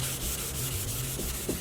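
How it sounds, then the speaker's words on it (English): Wet sanding of a motorcycle saddlebag by hand with 400 grit sandpaper gives a steady, close scrubbing rub that runs continuously without pause, with no talk. "With the dye powder on the saddlebags, we can set to wet sanding and we get ready to paint."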